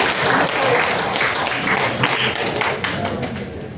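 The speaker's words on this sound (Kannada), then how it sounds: "ಅದಕ್ಕೆ ಫಸ್ಟ್ ನೀವು ಚಪ್ಪಾಳೆ ತಟ್ಕೋಬೇಕು" An audience at a Women's Day cultural association gathering in Yelahanka, Bengaluru, claps together in dense, loud applause that tapers off slightly toward the end.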